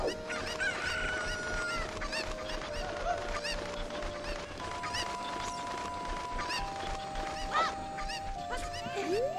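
Cucco chickens in The Legend of Zelda: Ocarina of Time squawk and cluck repeatedly over a steady bed of game music and effects, with crowing-like calls standing out throughout.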